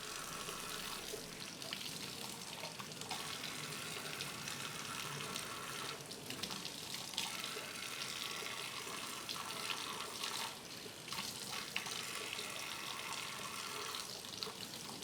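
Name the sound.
water running from a tap to rinse a LifeStraw straw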